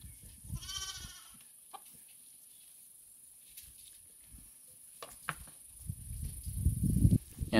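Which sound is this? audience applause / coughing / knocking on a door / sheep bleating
sheep bleating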